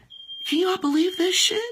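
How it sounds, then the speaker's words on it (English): A household smoke alarm, set off by cooking, gives a shrill steady tone that quickly falls under a loud, exasperated voice talking over it. "That's my smoke alarm."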